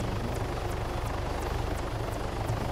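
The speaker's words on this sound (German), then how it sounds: "Okay, da ist ein anderer Heli." Helicopter in the video game Altis Life, a steady loud rotor drone with a dense, continuous whir and regular faint blade chops throughout, no voices.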